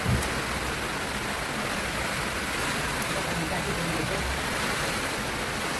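Continuous heavy rain pours over a farm with a constant broad hiss, close and enveloping, with a faint thump near the start.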